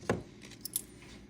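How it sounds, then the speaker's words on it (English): Small metallic clinks and jingles come from an old-fashioned key being handled during a jewelry haul: one sharper tap, then a few lighter taps, close and quiet, with no talking. "This is a key, one of the old-fashioned keys."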